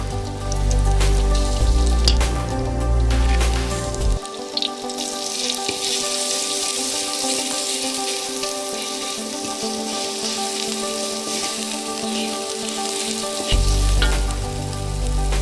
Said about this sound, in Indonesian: Lalu kita tumis bumbunya tadi yang kita ulek ya